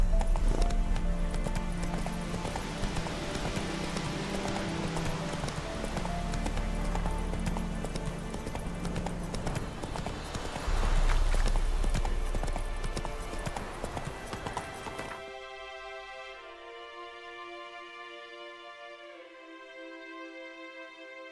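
Horse galloping in the video game The Witcher 3, a steady, rapid clip-clop of hooves under loud, dense game sound that then drops away into a quieter musical passage near the end.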